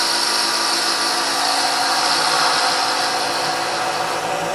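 Wood lathe making a very light cut while rounding over the base of an acorn-shaped holiday ornament; a steady, fairly loud hissing whir runs unbroken throughout, with no voices.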